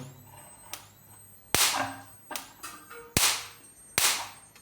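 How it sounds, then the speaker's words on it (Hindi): Several sharp, loud high-voltage sparks from a homemade electric fence shock machine crack out one after another at irregular intervals, with a faint hum between them. "काफ़ी तगड़ा स्पार्क है।"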